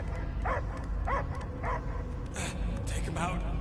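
A dog barking and yipping in short repeated bursts, moderately close, under background music and sound effects in an action film scene.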